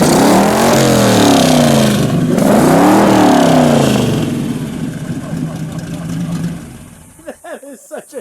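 A black 1952 Kurtis 500S street car's V8 engine revs loudly up and down in rising and falling sweeps, then eases off toward idle as the sound fades near the end.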